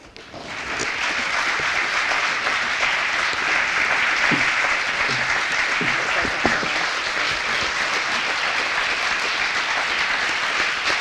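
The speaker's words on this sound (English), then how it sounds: "I just want us to give a big round of applause to Sarah Kaufman." Audience applause at a Republican Party Lincoln Day dinner, sustained loud clapping from a large room that swells quickly and continues steadily for many seconds with scattered louder claps.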